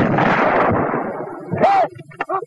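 A 37 mm anti-tank gun fires at a concrete target 800 yards away, one sharp blast partway through, preceded by shouted voices and followed by short fading echoes.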